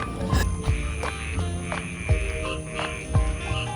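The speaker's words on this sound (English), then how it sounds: "Can you hear the frogs?" Repeated croaking calls from frogs pulse every half second or so over a steady chorus of night insects, fairly close.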